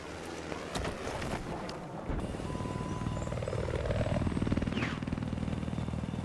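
Helicopter in the Battlefield 4 video game, a steady rotor drone under wind-like rushing noise, growing slightly louder toward the end with a brief whistling sweep partway through.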